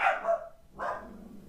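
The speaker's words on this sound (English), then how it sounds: "That's a dog." A dog gives two sharp barks close by, one right after the other, with a short gap between them.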